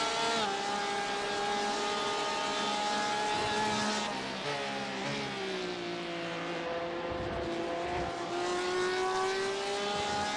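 GTE and GT3 race cars at Sebring in a racing video game: loud, continuous high-revving engine drones with rising and falling pitch as several cars pass and shift, no voices over them.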